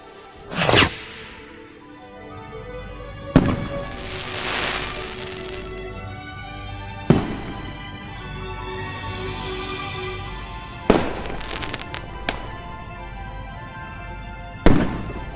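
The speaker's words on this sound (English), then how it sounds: "and lit the firework." Fireworks going off outdoors, sharp loud bursts at irregular intervals with crackling and hissing trails between them, each blast ringing out and fading.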